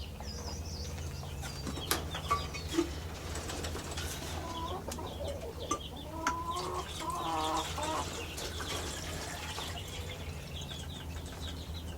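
Hens cluck and squawk intermittently at close range, with a few sharp calls and light rustling over a steady low background hum.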